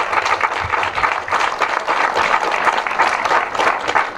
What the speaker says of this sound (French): Bien sûr, vous pouvez les applaudir.